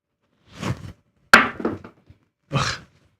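Dice thrown onto a casino craps table: three separate clattering impacts with short tumbles, one before a sharp loud hit and another after, each followed by quiet.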